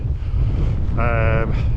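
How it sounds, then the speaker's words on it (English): Heavy wind buffets the microphone with a low rumble in a valley in the Lake District, while a brief high tone sounds for a moment midway. "as you'll see, it is windy"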